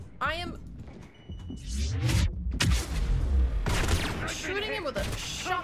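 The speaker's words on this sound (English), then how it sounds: "shooting him with a shotgun in the face" Shotgun blasts go off during combat in the video game Mass Effect 3, with sharp bursts of fire heard amid close talking and in-game voices.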